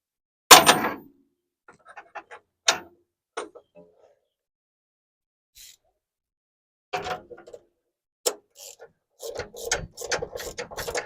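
A hand ratchet runs a nut down onto the lower mount of a shock absorber on a 1974 Ford F100. It clicks in short, separate bursts with pauses between them, loud and close with no talk.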